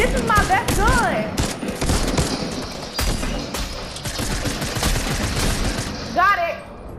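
Gunfire from a weapon in the Fortnite video game, loud dense bursts of rapid shots running almost continuously, with an excited voice talking over the firing.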